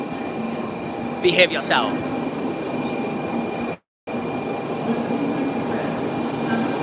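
Interior hum and rolling drone of a Kyushu Shinkansen bullet train, continuous and moderately loud, with a brief squeal early on, a short cutout partway through, and a voice speaking over it.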